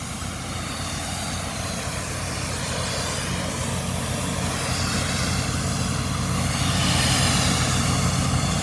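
A Honda 800 engine and a Kohler engine run side by side, a loud, steady mechanical roar with a low droning hum that swells slightly toward the end, with no talk.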